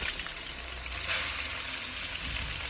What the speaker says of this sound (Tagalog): Gisa na natin yung kamatis